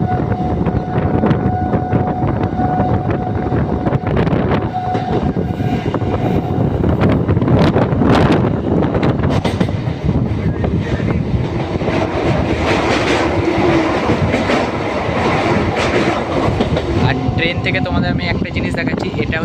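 Passenger train running at about 60 to 65 km/h between Sealdah and Bolpur, a continuous loud rumble with rhythmic clickety-clack of wheels on rail joints and wind buffeting, with someone speaking over it.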